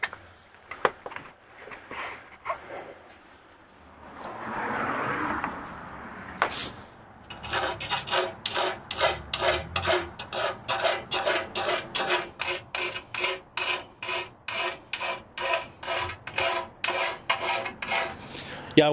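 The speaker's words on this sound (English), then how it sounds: "We'll use a chain file." A chain file rasps burrs out of a hole in a metal part on a rear axle, starting with scattered scrapes and then settling into a fast, regular back-and-forth filing rhythm of sharp strokes, close and clear.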